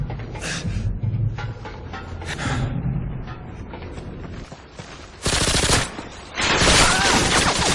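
Automatic gunfire in the video game Modern Warfare 2: rapid loud bursts of rifle fire, with sustained heavy volleys near the end.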